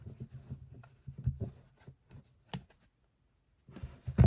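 Playing cards shuffled and handled at close range, soft papery riffles and taps coming in short irregular bursts with quiet gaps between them.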